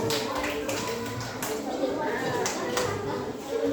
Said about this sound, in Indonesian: tepuk tangan buat kelompok satu sudah selesai dulu